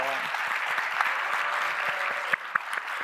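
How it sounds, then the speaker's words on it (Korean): A church congregation at a Sunday youth worship service claps together. The applause is dense and sustained, heard from a little distance, with a few sharper individual claps standing out near the end. "모두 환성의 박수 부탁할게요"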